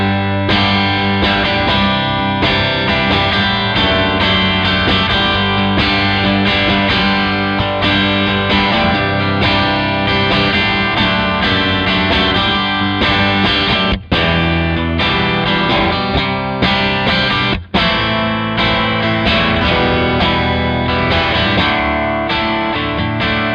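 Electric guitar played through a Victory V4 Copper amp preset with its reverb turned down, heard in a studio room: a continuous distorted, chorused stream of chords and notes, loud and sustained, with two brief dropouts.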